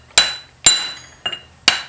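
Three sharp hammer blows ring out with a lighter tap between them as a metal axle is driven out of a John Deere 790 MFWD front axle housing, close and alone.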